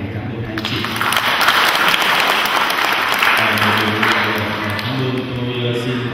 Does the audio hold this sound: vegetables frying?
no